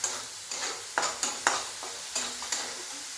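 Turmeric stirred into soybean masala frying in a pan, with a spoon scraping in regular strokes about every half second over a soft, steady sizzle; no one talks.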